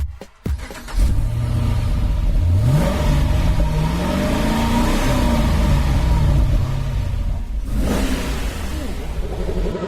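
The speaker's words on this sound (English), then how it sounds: "Here's the sound of Richard's car once again." A car engine revs hard and climbs in pitch, then holds a loud, steady drone close up before easing and briefly surging again, with no voices over it.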